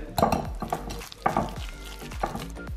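Curry powder and smoked paprika stirred in a pan, with a few quick clinking scrapes of a utensil against the pan over a soft sizzle, in short bursts without talk.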